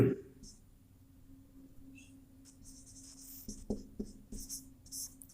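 Pen or marker writing on a surface during a maths lesson, soft intermittent scratchy strokes growing busier toward the end, faint and close.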